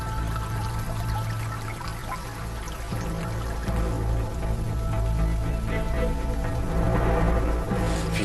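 Steady rain falls at dawn in a cold, wet wilderness, a dense continuous patter and wash that holds at an even, fairly loud level from start to finish, with no voices.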